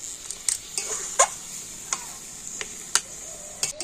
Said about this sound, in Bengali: তো গুড়টা দিয়ে আর এবার এরকম ভালোভাবে নাড়তে হবে, মানে সবসময় একটু নাড়াচাড়া করে নিতে হবে।